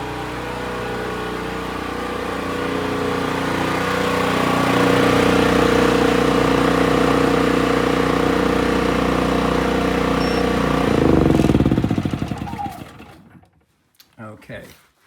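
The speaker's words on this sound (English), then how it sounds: "I'm going to go and shut the generator off." A generator engine drones at a steady, loud hum with a tonal whine, then sputters and winds down as it is shut off, leaving near silence broken by a couple of faint clunks.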